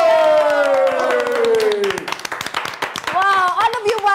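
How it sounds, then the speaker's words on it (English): Children clapping together in a classroom, a quick burst of hand claps with cheery voices and a sliding tone over it, clapping continuing in ragged bursts as people talk. "Another clap for you guys."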